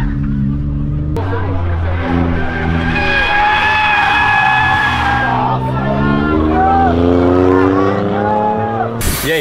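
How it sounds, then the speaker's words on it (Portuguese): Chevrolet Onix drifting, engine roaring and tires squealing loudly for several seconds with rising and falling pitch, a crowd babbling in the background. "esse Onix aqui, ele faz drift de Onix"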